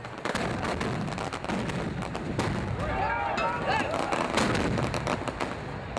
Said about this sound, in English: San Salvador has already started their fireworks display.